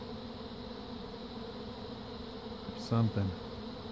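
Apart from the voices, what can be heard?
bee swarm buzzing around a hive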